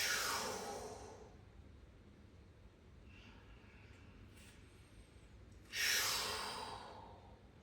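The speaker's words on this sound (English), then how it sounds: "3 massage breaths." Deep yoga massage breaths taken during a lunge pose: a long, loud exhale at the start, a quiet stretch with faint rustling, then another strong breath near the end, close and breathy.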